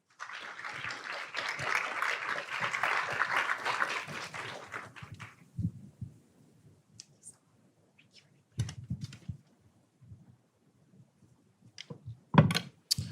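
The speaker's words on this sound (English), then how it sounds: "Please give him a round of applause." An audience claps for about five seconds to welcome Congressman Jonathan Jackson, a moderate, even burst of applause that stops abruptly. Scattered thumps, shuffling and a few faint knocks follow in a quiet hall.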